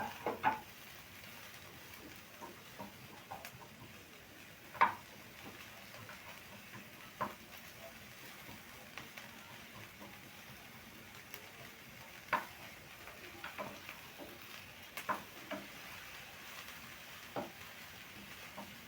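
Onions frying in a pan for a home-cooked meal of pork, ugali and greens, a soft steady sizzle with occasional stirring clinks and scrapes, fairly quiet and close throughout.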